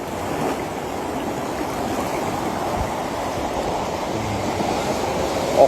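Flood water flowing past in a steady, loud, continuous rushing roar, close by and without talk.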